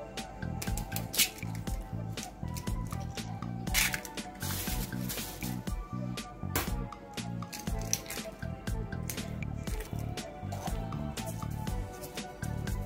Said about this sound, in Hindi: अभी जो है मम्मी इसमें अंडे फोड़ रही है,